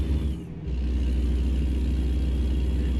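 A Cummins truck engine in American Truck Simulator runs with a deep, steady diesel rumble and low drone, close and continuous, dipping briefly before settling back to a constant hum.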